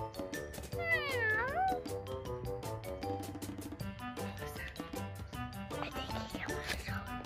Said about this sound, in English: I heard a meow from a kitty cat monster outside